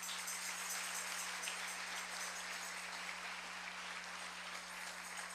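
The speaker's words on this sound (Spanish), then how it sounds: "Démosle fuerte el aplauso al Señor" Church congregation applauding, a steady dense wash of clapping heard from a distance and fairly faint, with a constant electrical hum beneath it.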